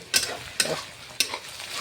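Onions sizzling in a pan while a spoon stirs them, three crisp scraping strokes spaced about half a second apart over a soft steady fry, close by and with no talking.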